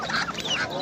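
Turkeys at a poultry market in Qarshi district, Qashqadaryo, call out with a continuous honking, gobbling clamour, loud and close, filling the brief moment without speech.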